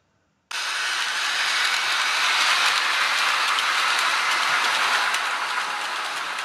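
A model train starts and runs along a model railway layout, giving a steady, close rolling rumble and hiss that begins abruptly and holds evenly throughout, with no voices.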